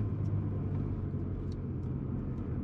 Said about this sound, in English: I love that supercharger.